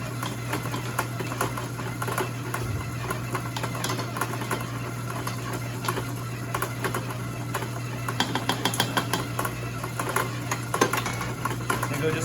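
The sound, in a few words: mixer mixing gluten-free hamburger bun dough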